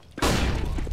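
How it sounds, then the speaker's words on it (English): A flashbang grenade detonates in Counter-Strike: Global Offensive, a sudden loud burst that rings out and holds as a sustained bright hiss for the rest of the moment, close and dominant. "Flashbang"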